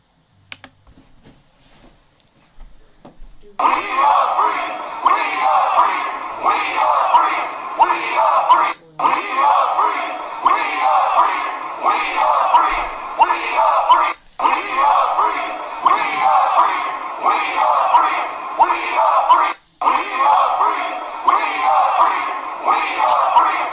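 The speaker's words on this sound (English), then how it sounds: "So Jake was literally screaming and chanting" A crowd screaming and chanting in a loud continuous roar that starts abruptly after a few quiet seconds and runs on with brief drop-outs, dense and close throughout.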